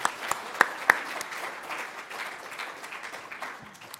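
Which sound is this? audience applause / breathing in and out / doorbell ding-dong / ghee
audience applause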